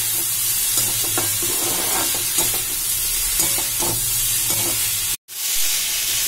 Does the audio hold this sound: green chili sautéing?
yes